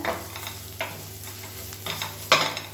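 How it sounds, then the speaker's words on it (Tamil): Powdered spices, including turmeric, sizzle and crackle in hot oil while being stirred for a quick Tamil kulambu side dish, with soft scraping strokes and a louder burst near the end, no talk. "இப்போ பொடி எல்லாத்தையுமே எண்ணெயில் லேசாக வதக்கி விட்டுக்கோங்க."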